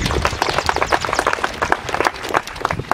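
An audience at a school exam gathering in Minembwe, DR Congo, applauds with a dense, loud patter of many hands clapping irregularly and without pause.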